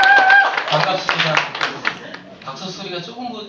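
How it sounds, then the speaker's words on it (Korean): A lecture audience gives scattered clapping that fades quickly as a speaker talks over it in Korean. "박수 소리가 조금 전보다 작네요."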